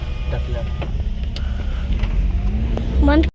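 A Maruti Alto 800 hatchback is driven with its engine showing RPM fluctuation, a steady low road and engine drone running throughout with a few faint clicks, and a rising whine near the end.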